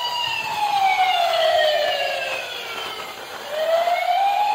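A toy fire truck's loud, near electronic siren wails in slow up-and-down sweeps, continuous and tinny, with no talking.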